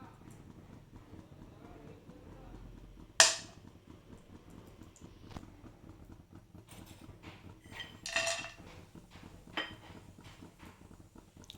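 A tawa pan set on a gas stove with ghee added for making kheer: a sharp metallic clank, then a scraping clatter a few seconds later, under quiet talk in a home kitchen.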